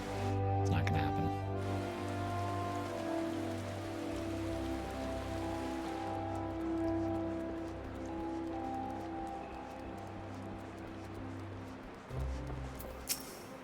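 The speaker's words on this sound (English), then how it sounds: "It's always raining in Gridana whenever I come back here." Rain in Final Fantasy XIV patters in a steady hiss beneath game music and drones, while a person talks over it throughout.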